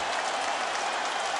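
A UFC arena crowd on its feet cheers and applauds in a brief, dense wash of noise that holds steady throughout.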